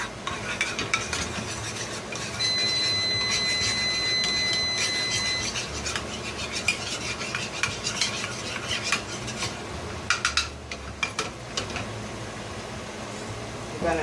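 Quick stir of plain yellow mustard seasoning beside a T-bone steak, soft scraping and clinking of a utensil against a pan over a faint steady sizzle, fairly quiet and close.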